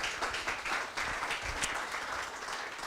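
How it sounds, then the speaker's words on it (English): An audience at a meetup applauds after a talk: dense, steady clapping from many hands in a room, with no voices. "Applause."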